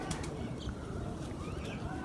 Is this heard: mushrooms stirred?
no